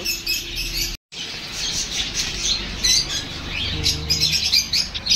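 Assorted caged birds of different species at an aqua garden near Nandankanan chirp and squawk in a busy, overlapping chorus, with high twittering calls running steadily throughout apart from a brief gap.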